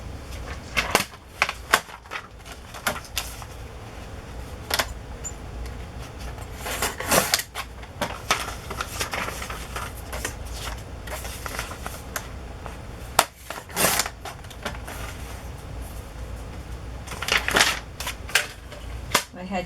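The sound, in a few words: cutting paper for a journal page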